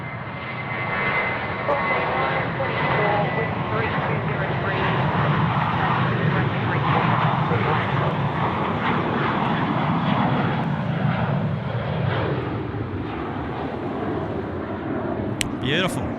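A Jetstar airliner rolls for takeoff at Sydney Airport, its engines building into a sustained broad roar heard from a distance, with someone talking over it throughout.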